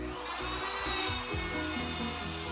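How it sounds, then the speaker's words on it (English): A corded router cuts a plywood ring, its motor whining steadily at close range while the bit chatters unevenly through the wood in short bursts. "Because I'm using a corded router, I'll go in opposite directions each time I make a pass"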